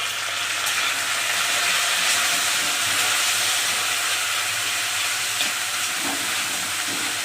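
Potatoes, tomato and green chilli frying in oil for sabudana khichdi, a loud, continuous sizzle with steamy hiss that stays steady from start to end, with no one speaking.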